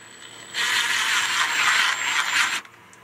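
A power drill whirs steadily for about two seconds as it drives a screw into a pre-drilled hole on a sailboat, buzzing and grinding close up, then cuts off abruptly.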